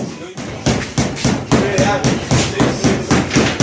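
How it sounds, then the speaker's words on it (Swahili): A hammer drives nails into wood during home repairs, with about eight steady, evenly spaced thuds ringing loudly and close, and voices faintly underneath. "Oh, nyundo. Kwani msumari."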